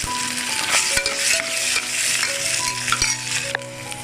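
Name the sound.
sautéing ginger garlic paste with onions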